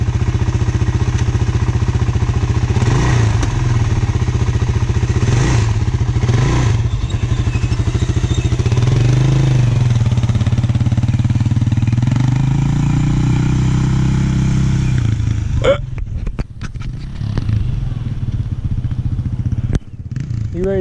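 A motorcycle engine revs in short bursts during a wheelie lesson, with a longer, louder rev in the middle and clattering thumps near the end, heard up close.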